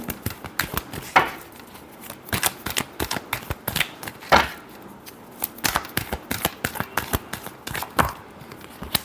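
Tarot cards are shuffled by hand in quick irregular bursts of crisp riffling and snapping slaps, close and clear with no talking.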